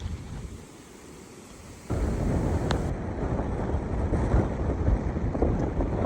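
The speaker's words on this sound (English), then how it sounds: "Very breezy out here today. Like a nor'westerly blowing." A strong north-westerly wind blows outdoors in remote Western Australian country, a loud buffeting roar that rumbles across the microphone and grows stronger partway through, with no talking.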